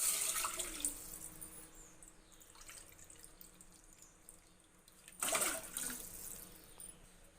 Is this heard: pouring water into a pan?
yes